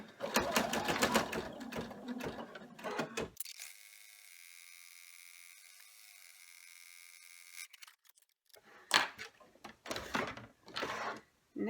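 An embroidery sewing machine stitches a tack-down edge around a candy corn treat bag design. A rapid, dense mechanical chatter comes first, then a steady hum with no stitching, and then more bursts of stitching.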